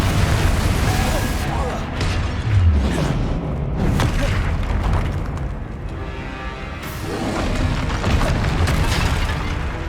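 A Confringo blasting spell explodes during a spell-casting duel in Hogwarts Legacy, with repeated deep booms and crackling bursts rising and falling inside a thick, steady wash of combat noise.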